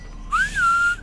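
Game character in Assassin's Creed III giving a single short whistle, a clear gliding tone that rises then settles and holds, loud and close over quiet background.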